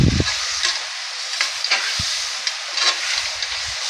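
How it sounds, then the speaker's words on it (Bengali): Tinda pieces frying with spices in a pan give a steady broadband sizzle, with a heavier clatter at the start and occasional soft stirring scrapes; no one speaks. "এই টেন্ডাগুলো দিয়ে দিচ্ছি। দিয়ে দিলাম, দিয়ে আবার মশলাগুলো দিয়ে মশলার ভিতরে একটু কষিয়ে নেব।"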